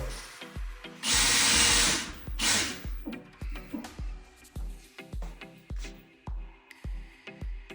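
A power drill whirs loudly in two short bursts while driving screws to install a Swiss Madison warmer, followed by a steady series of sharp knocks and clicks, close by with no talking.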